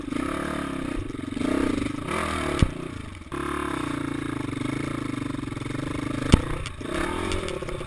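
Off-road motorcycles labour up a steep, log-strewn forest trail on an Altai mountain pass, engines droning and roaring steadily with brief clattering knocks and scrapes, fairly close, with no talk.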